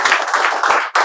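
A classroom of students claps together for a correct answer, a brief, loud, close burst of rhythmic hand claps.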